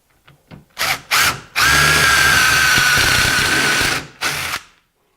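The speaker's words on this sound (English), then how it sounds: "using our step bit, we're going to drill out the final size of the hole" A power drill with a step bit whirs in a couple of short bursts, then runs steadily for about two and a half seconds as it bores out a hole, ending with one brief final spin.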